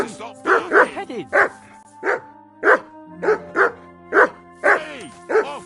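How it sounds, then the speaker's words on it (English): Dog in the medieval game Kingdom Come: Deliverance 2 barking repeatedly in loud, close, evenly spaced yaps and woofs, about ten barks in steady rhythm with faint background ambience. "Whistle at that mutt of yours to stop barking."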